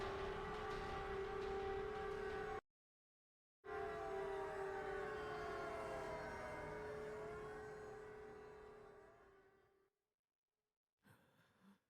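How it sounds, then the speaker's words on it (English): A loud, sustained civil-defense-style siren wails in the Silent Hill video game, holding a steady pitch with rising and falling harmonics, cutting out briefly and then fading away, with no speech. "the siren rings one more time"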